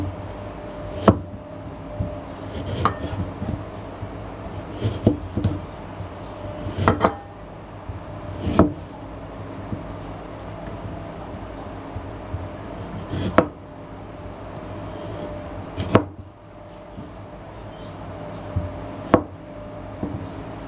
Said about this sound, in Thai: ให้เราหั่นขิงค่ะหรือใครจะทุบก็ได้นะ